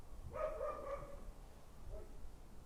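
Dog barking in a short burst of a few yaps, moderately close, then trailing off into quiet background hiss.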